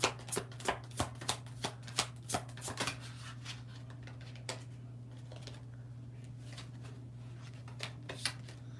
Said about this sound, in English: I'm just trying to shuffle these good.